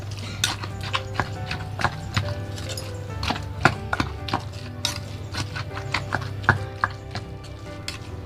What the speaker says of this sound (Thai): ก็มาตำโขกให้เข้ากันนะคะ กับพริกแกงพริกแกงที่เราตำไว้เนาะ